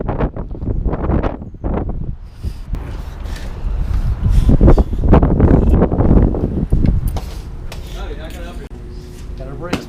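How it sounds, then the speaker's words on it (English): Strong wind blowing outdoors near a parked 2004 Chevrolet Suburban 1500, a loud, gusty rumble that swells and fades across the clip, with people talking intermittently over it. "that wind is so strong it wasn't letting me open up the door"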